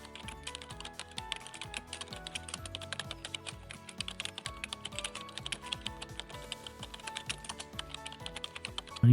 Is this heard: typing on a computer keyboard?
yes